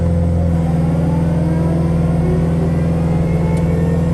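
A Caterpillar 259D skid steer runs a Diamond rotary mower up to speed, making a loud, steady, close engine drone with strong low hum and a rising whine layered on top.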